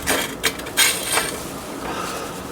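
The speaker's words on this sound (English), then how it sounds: "Might wash my skillet." A skillet being washed, with a few sharp metallic clanks and scrapes near the start, followed by softer rubbing and water-like hiss that trails off.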